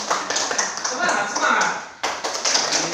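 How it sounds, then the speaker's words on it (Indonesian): Applause and tapping fill a classroom during a group discussion, a steady busy patter with a short break near the middle, while voices call out over the clapping. "Berikan tepuk tangan."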